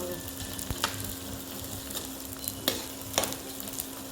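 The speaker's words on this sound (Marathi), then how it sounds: "डिंक चांगलं तळून घ्यायचं थोडं थोडं टाकत तळून घेऊ आपण" Edible gum (dink) frying in hot fat for ladoos, a steady close sizzle and bubbling with occasional stirring scrapes and clinks of the spoon against the pan.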